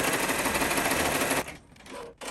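A home embroidery machine runs the placement stitch for shabby chenille embroidery with a steady, fast mechanical chatter that stops after about a second and a half, leaving quieter handling sounds.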